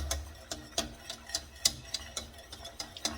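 A whisk scrapes and taps against the sides of a pot of homemade banana pudding in quick, irregular clicking strokes, close and fairly quiet.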